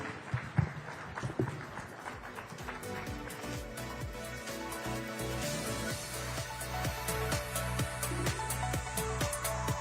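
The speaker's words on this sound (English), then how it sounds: "A huge round of applause, please, for Luciano and Katie." A business summit audience claps for two departing session speakers, with scattered sharp claps gathering into fuller, steadier applause as tonal music plays underneath and grows slightly louder toward the end.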